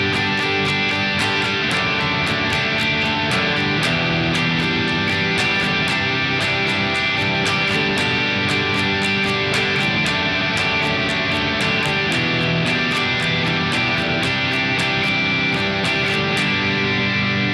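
Electric guitar strums chords in steady eighth notes, with dense sustained harmonics and regular attacks throughout, alone without talk, for a guitar part from a song.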